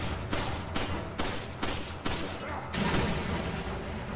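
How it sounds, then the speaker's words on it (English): Video game gunfire and grenade explosions, a run of about six heavy, evenly spaced shots or blasts followed by a longer rumbling burst, loud and close, with voices faintly mixed in. "I shot your grenade with my grenade"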